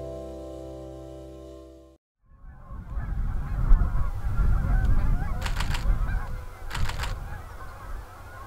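Geese honk in two short bursts as they fly overhead above an outdoor landscape. The calls come over a loud, steady rush of wind and outdoor noise, after a few seconds of quieter sound at the start.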